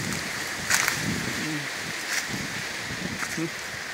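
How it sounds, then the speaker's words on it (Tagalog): Steady broadband roar of strong wind at a farmhouse, filling the whole stretch, with a few faint sharper gusts and rustles rising over it, with rain falling. "lakas ng hangin."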